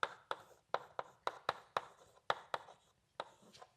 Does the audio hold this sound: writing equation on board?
yes